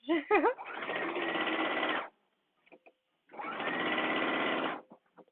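Sewing machine stitching a dress, two long steady runs of fast whirring stitches separated by a short pause with a few clicks, close and clear, with a brief vocal sound at the start.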